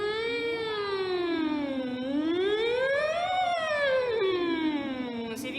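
Children's voices imitate an ambulance or police siren during a singing workshop, sliding smoothly up and down in long wailing sweeps, loud and continuous and close, with no talking over them.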